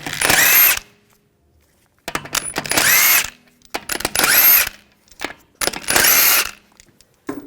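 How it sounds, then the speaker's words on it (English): A power tool with a 17mm socket spins out the wheel lug bolts on a 2007–2013 BMW 328i in four loud whirring bursts separated by short pauses and small clanks. "Use a 17mm socket. Take these lug bolts out."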